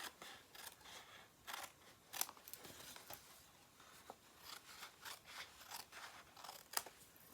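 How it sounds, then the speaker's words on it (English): Scissors snip through cardboard box side flaps in a quick irregular series of crisp cuts and rustles, close and fairly quiet. "I'm going to trim these two side flaps in half."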